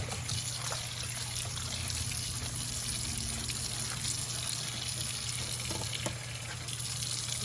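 Hot water runs steadily from a tap to soak a piece of old glass, a soft, continuous trickle and splash that stays quiet and even.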